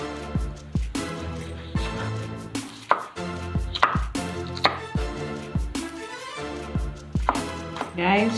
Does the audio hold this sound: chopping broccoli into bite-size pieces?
yes